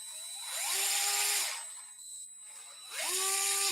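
A DeWalt 8-volt gyroscopic screwdriver runs in two short bursts, each a whining motor that ramps up in pitch, holds briefly and winds down, with a quiet pause between them.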